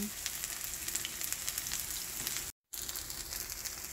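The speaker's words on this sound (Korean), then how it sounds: "달구어진 팬에 이렇게 반죽을 넣고 살살 펴주고 노릇노릇하게 구워지면 장떡이 되는 것입니다" Jang-tteok batter made with chive flowers spreading in a hot pan gives off a dense, even crackling sizzle close up, broken by one brief dropout near the end.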